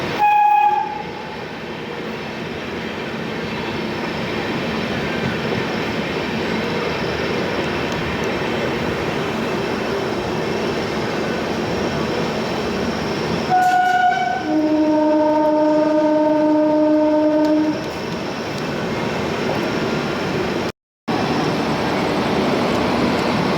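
An Amrit Bharat Express rolls slowly into Anand Vihar station, a steady loud rumble of wheels and carriages with a sharp horn near the start and a longer multi-tone horn blast midway, no voices.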